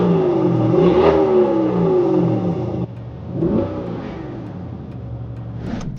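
Lamborghini Urus SE plug-in hybrid in Corsa mode blips its engine, a sharp rising rev around the first second that settles back, then a second rev and a brief final burst, loud and nearby.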